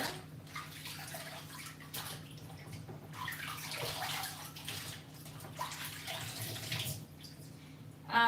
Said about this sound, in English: what I'm going to be doing is fishing these scallions out of their rinse water